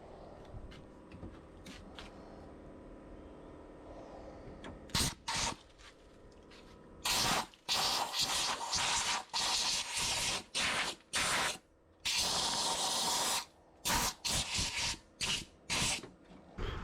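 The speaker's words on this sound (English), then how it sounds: "I'm just spraying some rust preventer on the rest of the material that's down here" Rust preventer sprayed from an aerosol can onto the bed panel of an FJ40 during rust repair, heard as a series of loud, close hissing bursts of varying length separated by short pauses.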